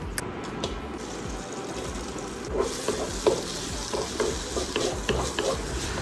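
Onions fry in a pan and are stirred with a spoon, giving a steady close sizzle broken by repeated scraping strokes, with no voices.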